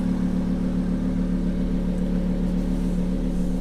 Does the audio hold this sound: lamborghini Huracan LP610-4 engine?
yes